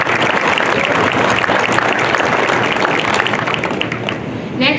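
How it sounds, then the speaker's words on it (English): An audience at an electric cooperative's annual meeting gives steady, full applause for performers, loud and sustained for several seconds, with a few murmured voices mixed in. "So how about a round of applause for them?"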